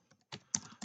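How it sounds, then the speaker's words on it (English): A handful of quick keystrokes on a computer keyboard, close and soft, in a short burst of clicks with no speech. "So I'm going to type"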